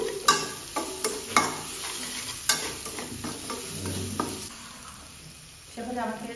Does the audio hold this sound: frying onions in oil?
yes